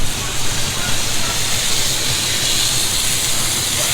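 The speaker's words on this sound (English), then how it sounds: "because we have a fire ban, we have a propane fire pit right now" Propane fire pit at a lakeside campsite during a fire ban, a loud, steady broadband hiss running unbroken from start to finish.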